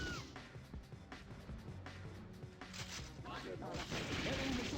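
Heavy machine gun fire in the arcade shooter Metal Slug 6, dense rapid bursts of game gunfire and impacts layered with busy game sound effects, loud and continuous throughout.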